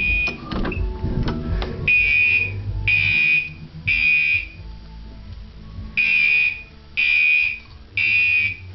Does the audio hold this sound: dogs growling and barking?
no